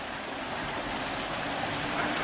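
A small creek beside a rural road on an off-grid homestead runs after heavy rain, giving a constant broadband rush of flowing water, steady and fairly close with no pauses.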